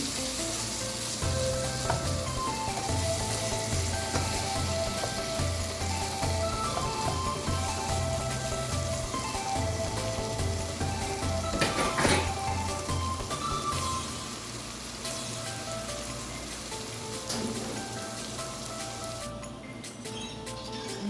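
Frozen minced meat cooks with tomato in a pan, a steady, fairly quiet sizzle and crackle of frying with occasional stirring scrapes, continuing alone for a long stretch.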